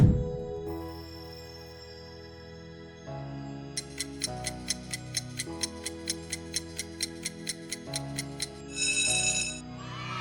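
An LG smartphone ringtone plays alone: a layered electronic melody with a sustained low bass line and a run of bright, evenly spaced ticking chimes in the middle, ending in a brief shimmering flourish.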